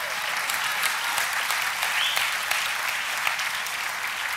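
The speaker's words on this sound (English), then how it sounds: "Clap." A large audience applauds continuously at a sermon-style talk, a dense even wash of clapping that holds steady from start to finish.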